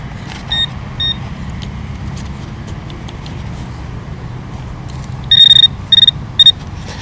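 Metal detector swinging over a target in a residential yard, giving a few short electronic tones early and then a louder run of three clipped beeps near the end, over steady outdoor background hum.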